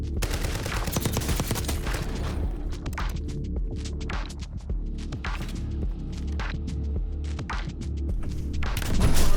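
Video-game combat: dense bursts of automatic gunfire and heavy explosion thumps over a low throbbing hum, with a loud blast building at the end.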